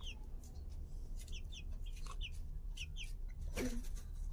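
A hen kept at home clucks in short, quiet bursts, several soft repeated calls spread across a faint background with one lower, fuller cluck near the end.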